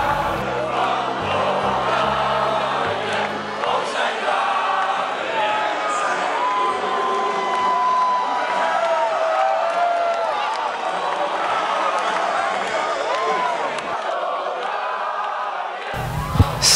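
A crowd at a summer festival in Olomouc cheers and whoops outside a window, a sustained loud roar with whistle-like cries that cuts off abruptly near the end.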